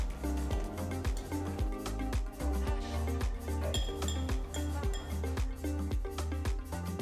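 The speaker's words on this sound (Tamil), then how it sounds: "ஒரு ஃபோர்க் வச்சு நல்லா மிக்ஸ் பண்ணுங்க" A fork beats an egg mixture with carrot and spring onion in a bowl, a quick steady run of close metallic clinks and taps against the dish, with no talk.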